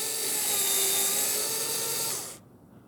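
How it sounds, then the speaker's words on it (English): A small motorized driver with a T2.5 Torx bit spins a screw out of a 2016 Mazda CX-5 car door, giving a steady, close, high-pitched whir for about two seconds before stopping abruptly. "I'm going to unscrew it."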